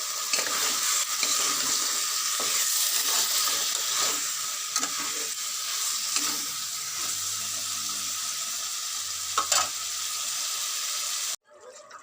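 Spice paste sizzles steadily in a hot pan, with scraping stir strokes and clinks of a spoon throughout, then the frying cuts off abruptly near the end; no one speaks.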